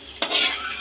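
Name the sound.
frying gulab jamun in a pan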